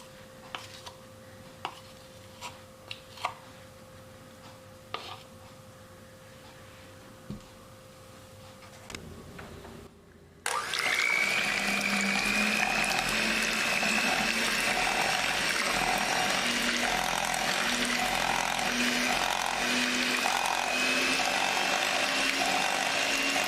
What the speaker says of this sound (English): Then we're going to use our electric mixer to mix this all together.